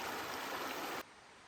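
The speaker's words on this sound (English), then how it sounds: "So this is the Peddler River." The Peddler River stream runs near a deer camp in Amherst, Virginia, a steady close rush of flowing water that cuts off abruptly after about a second, leaving only faint background.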